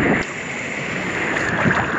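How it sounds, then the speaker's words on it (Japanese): High ocean waves at a Maldives beach make a continuous, broad surf roar, with wind buffeting the microphone, loud and close, with no voices. "波が高くなってて結構怖いです"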